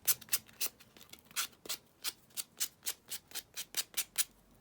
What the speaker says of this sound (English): it's surprising the difference it makes once you've sanded them down